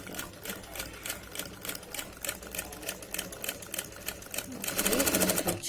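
A Jack F4 industrial sewing machine stitches in a steady rapid rhythm, running in short bursts before a louder, faster run near the end, heard up close with no talk.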